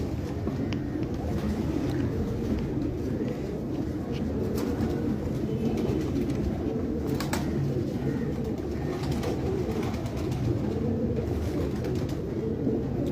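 Pigeons at a pigeon club coo steadily and densely, a continuous low murmur of many birds close by, with faint background noise.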